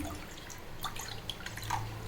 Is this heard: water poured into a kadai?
yes